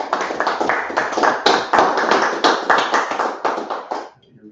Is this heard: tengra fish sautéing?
no